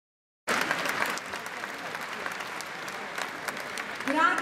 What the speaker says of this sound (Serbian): Aplauzi za zvučani.